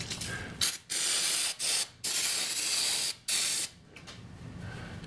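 Brake cleaner aerosol sprays onto an engine cam area in a short series of loud, close hissing bursts with brief pauses between them, ending on a softer spray.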